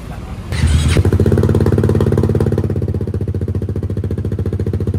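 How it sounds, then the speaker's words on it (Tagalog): A Kymco Xciting VS 400 scooter engine with an Akrapovic carbon exhaust, silencer removed, catches after a short burst of noise and settles into a loud, raw, rapidly pulsing exhaust idle that gradually evens out. "Ganyan na itsura niya pag walang silencer."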